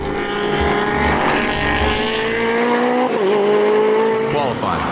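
A race car laps at a GRIDLIFE South time attack event, its engine a loud sustained howl with shifting pitch and a downshift blip near the end, with faint tire noise underneath.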